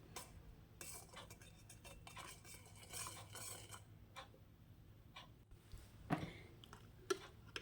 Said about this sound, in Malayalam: ഇനി നന്നായിട്ടൊന്ന് മിക്സ് ചെയ്തെടുക്കണം.